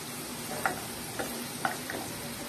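Spices such as turmeric, chilli, cumin and coriander powder being stirred and sautéed in a pan for a chicken curry, a soft steady sizzle broken by a few sharp clicks of the spoon against the pan, with no voices.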